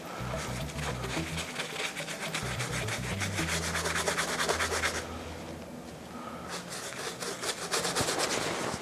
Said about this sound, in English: just apply it to the entire surface and really kinda brush it in well to get it in all the cracks and crevices